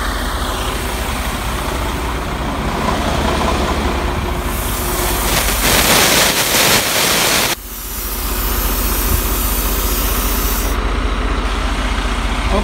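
A 2019 Freightliner truck idles nearby as its air brake system refills, a loud steady engine rumble broken midway by a strong hissing rush of air that cuts off abruptly before the idle continues.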